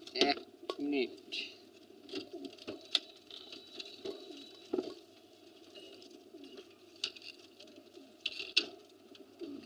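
Pigeons coo in a pigeon house, repeated low throaty calls scattered among wing flutters and scratching, with someone talking quietly at times.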